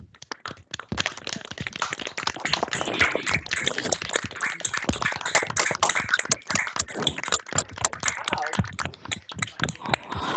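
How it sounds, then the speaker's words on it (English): Webinar participants with microphones unmuted clap together in a dense, uneven burst of many hands, sharp overlapping smacks running steadily for about ten seconds at moderate loudness. "let's just have a collective loud clap"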